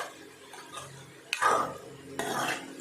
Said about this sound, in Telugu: ఇప్పుడు బాగా కలుపుకోవాలి